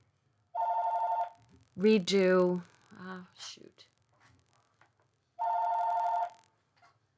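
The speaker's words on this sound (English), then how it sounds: "Sorry about the phone." Telephone rings twice in electronic trilling bursts, loud and near, with a person speaking briefly in the gap between the rings.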